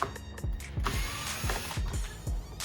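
A ratchet tool clicks in quick repeated bursts while screws are backed out of the door trim panel of a 2019 Infiniti Q50, with sharp metallic ticks roughly every half second, close and fairly loud.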